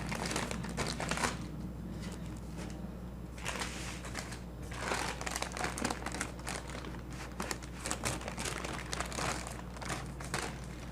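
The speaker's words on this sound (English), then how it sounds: "take your parchment to help you move it and roll it" Parchment paper crinkling and rustling as a Swiss roll sponge is rolled up in it, steady close crackles with a few louder bursts of crumpling throughout.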